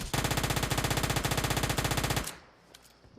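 Uzi submachine gun firing in PUBG Mobile, a loud rapid sustained burst of about two seconds that cuts off abruptly, followed by quiet game ambience.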